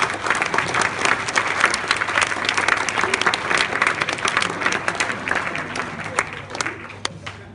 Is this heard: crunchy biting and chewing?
no